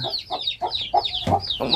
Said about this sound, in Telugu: కోడి పిల్లలు చూపిస్తా